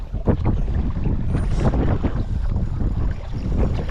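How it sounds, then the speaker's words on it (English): Strong wind buffeting the microphone while kayaking on open water, a loud, low, continuous roar with gusty surges and faint water splashes beneath, close and unbroken throughout. "Gonna get out of this wind somewhere"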